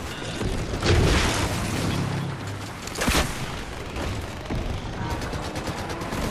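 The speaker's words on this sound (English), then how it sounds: "stop shooting at me" Gunfire in Fortnite crackles as dense continuous shooting with a few louder booming shots mixed into a busy, noisy game soundscape.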